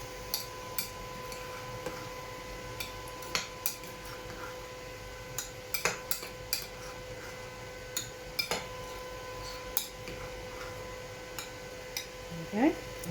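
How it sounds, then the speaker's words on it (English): A spoon clinks and taps against a bowl while mixing broccoli and cheddar quiche filling, irregular light ticks and scrapes scattered throughout, faint and close. "using a spoon, just mix"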